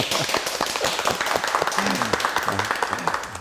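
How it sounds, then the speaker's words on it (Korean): Small church congregation gathered for a Bible study claps hands in a short burst of scattered, close claps, with a few voices talking and murmuring through the clapping. "이 시간 영상으로 함께한 우리 성도들에게 오신 우리가 박수 한번 쳐드리고 시작하면 좋을 것 같아요."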